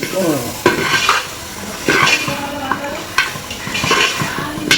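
A spoon stirs spices, garam masala and chicken masala, into a sizzling country chicken curry in a pot. Several loud scrapes and clanks sound over a steady frying hiss, close and without talk.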